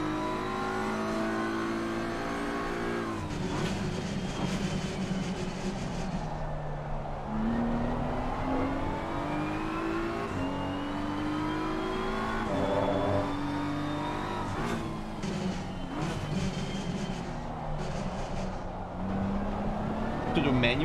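Race car engine in a racing video game, revving and dropping in pitch with sharp throttle blips on downshifts, steady and close throughout, with a continuous loud drone and some tire noise.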